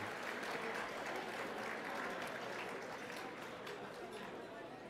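A hall audience at the 2013 Kahlil Gibran Spirit of Humanity Awards gala gives a round of applause for Arab Americans in government, a steady wash of many hands clapping with faint crowd murmur beneath, heard from a distance.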